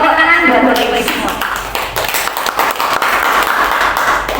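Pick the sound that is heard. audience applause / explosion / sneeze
audience applause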